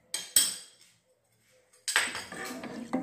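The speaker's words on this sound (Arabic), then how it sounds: "وانا كنحرك ما غنوقفوش من التحرك" Stirring melting chocolate in a pot on low heat: a couple of sharp utensil clinks against the pot, a short quiet pause, then a busier stretch of scraping and clattering, close and alone.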